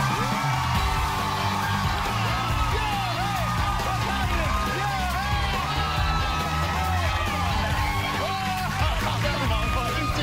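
A studio audience on the Strahan, Sara & Keke talk show cheers for Jimmy Fallon, a continuous loud roar of whoops, yells and excited shouting that fills the whole stretch.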